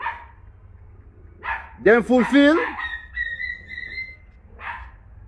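A dog barks in a short burst of several loud yaps close by, with people talking around it.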